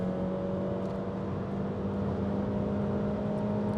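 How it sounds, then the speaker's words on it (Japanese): A high-mileage Honda Fit with about 150,000 km on it accelerates hard around Fuji Speedway, its engine a steady, loud, continuous drone heard from inside the car with no talking. "いやとても15万キロの車とは思えないこの加速感とね"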